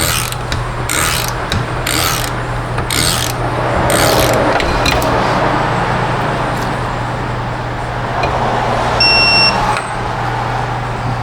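A torque wrench tightens the front wheel bearing hub nut on a Nissan Altima with repeated scraping, ratcheting strokes. A low steady hum runs underneath, and a few sharp metallic clicks come near the end.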